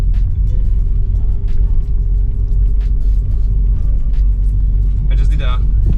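A Renault Scenic RS rolls along its first few meters on new stiff suspension, giving a low, continuous road rumble and engine drone close inside the cabin, with a brief higher noise near the end.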